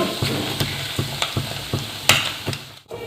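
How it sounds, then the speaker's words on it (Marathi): Ground peanut powder sizzles in oil in a pan for a Dingri bhaji, with a spoon scraping and stirring in a steady rhythm of about seven strokes under a soft, continuous fry. "त्यांना तेलामध्ये चांगलं परतून घ्यायचं गॅस ना फुलच राहू द्यायचं"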